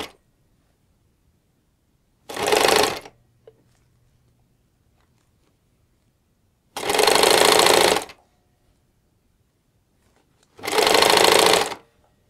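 Three separate bursts of a sewing machine stitching a summer dress seam, each a second or less, rapid and mechanical, close up and separated by quiet pauses.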